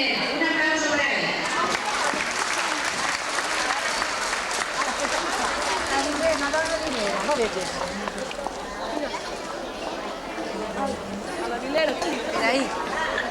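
An outdoor audience applauds steadily throughout, a dense wash of clapping mixed with lively crowd chatter and voices talking over it.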